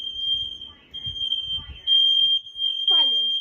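Smoke alarms in a vacation home sound one continuous, piercing high tone, loud and close, while people talk over it and a brief squeal rises near the end.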